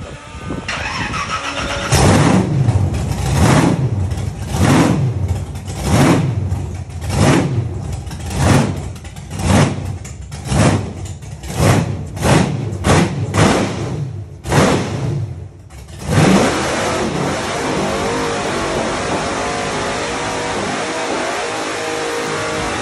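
A loud car engine revs in a rapid series of roughly a dozen rhythmic bursts during a test burnout skid, then settles into a sustained, roaring drone close by.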